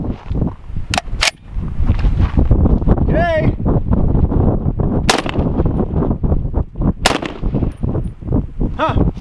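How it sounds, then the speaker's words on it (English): Loud, sharp SCAR 17 rifle shots crack out in a spaced series against outdoor wind noise, each blast standing out sharply, with people talking in between. "I'm gonna shoot it 2 more times with the SCAR 17 to see if it makes a difference"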